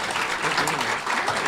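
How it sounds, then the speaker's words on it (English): A brief burst of audience applause for a panel at a Métis land conference, dense clapping at moderate loudness with voices murmuring underneath. "one more big round of applause for our panel."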